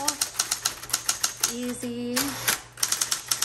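A 1960s Smith Corona Coronet Automatic 12 typewriter clacks in quick bursts of keystrokes, with a tonal carriage or motor sound in the middle and a brief spoken word over it.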